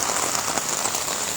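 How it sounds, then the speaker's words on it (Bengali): Heavy rain pours down in a dense, even hiss, steady and fairly close for the whole brief moment, with no voices. "বৃষ্টি সেই লেভেলের ঠান্ডা"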